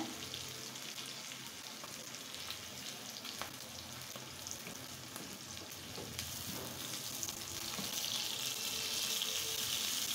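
Green chillies fry in hot oil with a steady, even sizzling hiss, faint and close, swelling slightly louder toward the end, with no voices.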